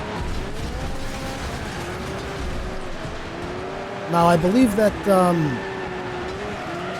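Race car engines drone and whine in Next Car Game, an early alpha driving game, under steady talking, with a burst of louder crunching impacts and scraping near the end.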